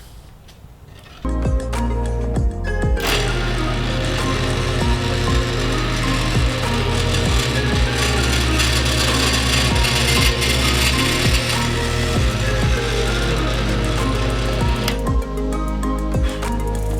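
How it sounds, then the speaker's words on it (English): A power drill bores a long run of holes for handrail fittings inside a sailboat, a loud continuous whine broken by short rhythmic dips and catches, with quiet before it starts and a sudden stop near the end. "Only 48 holes to drill."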